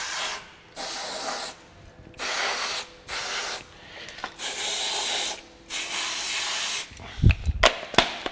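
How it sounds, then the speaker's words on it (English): Several bursts of aerosol lubricant spray hiss into a door mechanism, each lasting about a second, separated by short pauses, followed by a few mechanical clicks and knocks near the end. "Once I've done that, I'll give it another spray."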